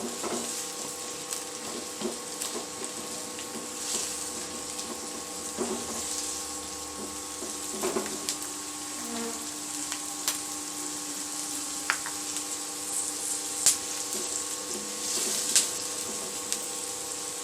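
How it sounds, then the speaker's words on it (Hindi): One large onion, cut in thick chunks, frying lightly in oil, a soft steady sizzle with scattered crackles and pops over a faint background hum, with no voices. "मैं 1 बड़ा प्याज जो है वो मोटा मोटा कटा हुआ था, उसको फ्राई करने लगी हूँ"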